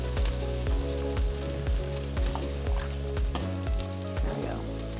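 Thick steaks searing in a hot pan, giving a loud, continuous sizzle and spitting fry noise with rhythmic pulsing and no voices.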